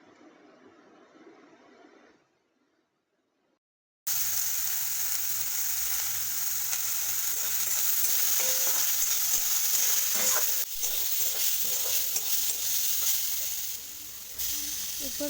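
Ingredients fry and get stirred in a pan for a thankuni leaf dish, a steady loud sizzle with scraping stirs. A quieter stretch and a brief silence come first, then the frying takes over and holds to the end.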